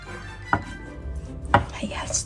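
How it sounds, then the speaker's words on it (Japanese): A kitchen knife cuts grilled tofu into large pieces on a board, two distinct soft thuds about a second apart, close and quiet against light background noise. "焼き豆腐はね、大きめに切ってふわっと仕上げたいので"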